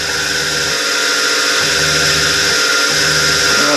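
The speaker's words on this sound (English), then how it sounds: "So that's how I've been drilling them." A loud power drill whirs steadily for a few seconds, drilling a diesel engine part held in a collet, its motor pitch dipping briefly now and then as it bites.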